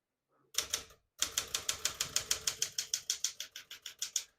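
Typing on a 1967 Smith-Corona Super Sterling portable typewriter: one sharp key strike, a brief pause, then a steady run of about twenty crisp, close clacks at an even, brisk rhythm.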